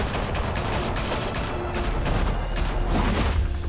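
Dense video-game gunfire from Telltale Batman, a sustained fusillade of rapid overlapping shots and booms filling the whole moment, loud and close with no talk over it.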